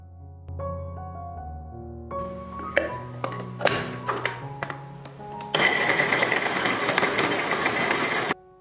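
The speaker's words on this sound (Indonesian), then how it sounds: "Selanjutnya kita giling lagi seperti tadi setengah bagian daging yang tersisa." An electric meat grinder grinds beef into mince for burger patties, a loud, steady whirring roar that follows a stretch of tonal notes.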